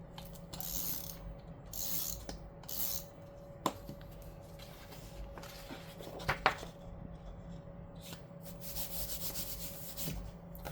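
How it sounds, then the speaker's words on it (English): A tape runner rolls and rubs across paper as a blank notes page gets glued into a budget planner. It makes soft, close scraping strokes in several short passes with small clicks between them. "that is going to get glued down using my tape runner"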